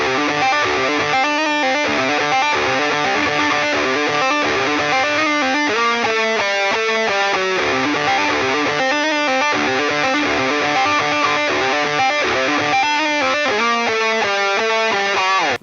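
Loud, saturated electric guitar plays a metal riff with crunchy chords and quick picked runs, continuous and full from start to finish.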